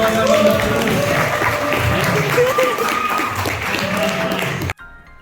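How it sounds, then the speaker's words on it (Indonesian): Audience applause at a Global Game Jam 2025 showcase in Bandung, dense clapping and crowd noise for nearly five seconds with voices mixed in, then cutting off abruptly to near silence. "Tepuk tangan dulu yang"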